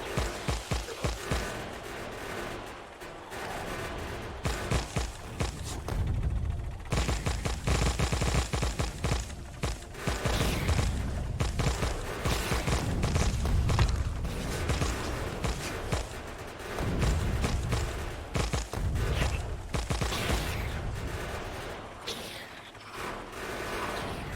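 A plasma cannon in the video game Factorio pounds biter nests, producing dense, continuous rapid-fire blasts that rumble and crackle without pause.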